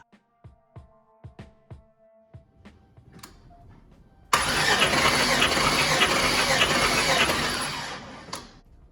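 An LS V8 in a Chrysler Caravan cranks during a compression test. A few sharp mechanical taps come first, then a loud, steady whirring crank runs for about four seconds and cuts off, close and alone.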